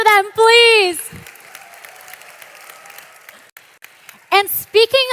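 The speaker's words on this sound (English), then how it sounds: "Another round of applause for them, please." A convention crowd in Dallas claps in a broad, sustained burst of applause that swells between a host's spoken lines at the start and end.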